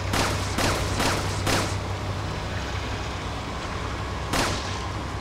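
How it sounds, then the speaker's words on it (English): Rapid gunfire from the video game Resident Evil 4: four sharp shots in quick succession, a pause, then one more shot, all over a steady low game hum. "Let's put some bullets into him."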